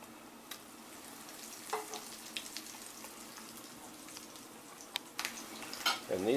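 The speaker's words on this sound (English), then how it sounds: "Got that nice frying sound." Breaded milanesa cutlets sizzle quietly in oil in a pan with scattered clicks and scrapes, then louder clatter near the end; no talking.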